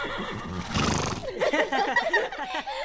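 Pepper, a cartoon horse, gives a loud, drawn-out neigh that breaks into a fluttering whinny, close and clear, with no talking over it.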